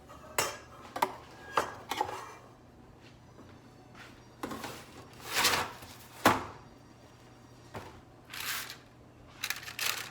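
A metal baking pan of chocolate chip cookies is handled in a home kitchen, giving a string of irregular clatters, scrapes and knocks, close and fairly quiet.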